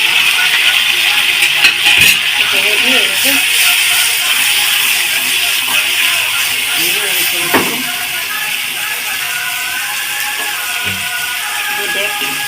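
Mola fish going into hot oil with browned onions, frying with a steady hissing sizzle throughout, close by, while a person talks over it.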